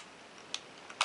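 A Minolta X film camera shutter fires with quiet, faint mechanical clicks, one small snap followed by a sharper click about half a second later, in an otherwise quiet room.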